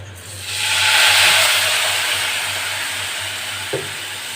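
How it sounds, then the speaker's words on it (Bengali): A little water poured onto frying spices in a hot pan bursts into a loud hiss that swells, then settles into a steady sizzle. "এর মধ্যে আমি দিয়ে দিচ্ছি সামান্য একটু জল"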